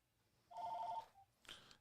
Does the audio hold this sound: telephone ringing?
yes